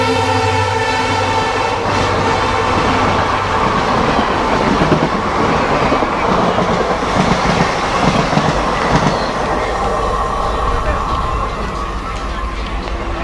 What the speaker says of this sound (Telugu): గంట లేట్ ట్రైన్